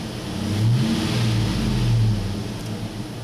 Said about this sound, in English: Give it a snap throttle, see if we can make this move just a little bit.